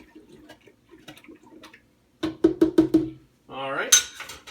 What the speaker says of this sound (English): So I'll give that a quick stir.